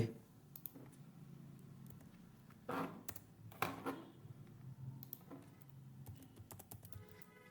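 Code being typed on a computer keyboard: quiet, irregular bursts of key clicks with a few louder taps, close and alone without talk.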